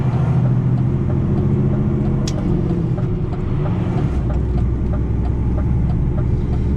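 Steady road traffic rumbles through a live motorway closure near the Snetterton junction, a continuous low drone of cars and heavier vehicles passing close by, loud and unbroken with no talk.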